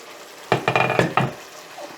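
Oyster mushrooms and beef cooking in a pan give a short burst of clattering stir and scrape sounds over a soft sizzle, lasting under a second, close and without talk.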